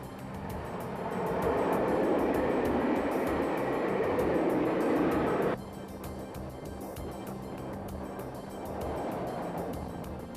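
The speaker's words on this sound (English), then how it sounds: "Our fast intercity express train charges headlong into the mountain pass." An intercity express train, the William Tell Express, runs on rails into a mountain pass with a steady rushing rumble that suddenly drops quieter midway, then continues with rhythmic clatter.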